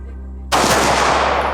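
A single loud, close pistol shot from a Smith & Wesson handgun fitted with a red dot sight, fired on a shooting range, with a sharp crack and a ringing decay afterward.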